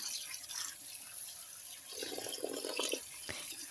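Tap water running over rice noodles being rinsed in a kitchen, a faint steady flow with a brief splashy swell near the end.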